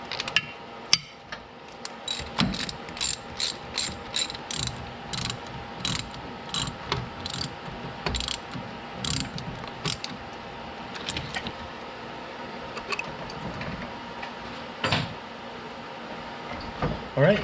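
Rapid ratchet wrench clicks tightening a radiator bolt during a K swap, coming in repeated short bursts with brief pauses, close up, over faint background noise.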